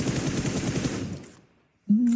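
Rapid bursts of automatic gunfire from PUBG Mobile, the Global Championship league, crackle densely and loudly for over a second, then cut to near silence before a brief tonal sound at the end.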